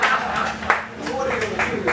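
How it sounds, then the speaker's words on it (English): An audience in a blues lounge gives a short round of applause, a few distinct claps over a murmur of voices. "applause."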